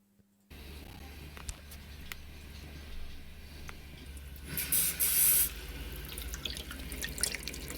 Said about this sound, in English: So we have some water.